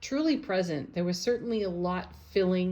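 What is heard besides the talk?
No everyday noises stand out.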